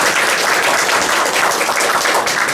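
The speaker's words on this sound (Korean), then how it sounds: "박수로 맞아주시기 바랍니다." Audience at a Korean policy forum breaking into sustained applause, dense even clapping filling the room without pause.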